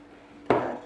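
A single dull knock of a spatula against a bowl while yogurt cake batter is mixed, close and brief, after a quiet moment.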